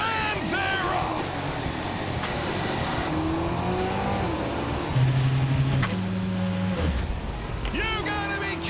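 A battery-powered electric dragster launches off the line at a drag strip, a rising whine and rush of motion with people yelling around it, then a sudden loud burst and more shouting near the end.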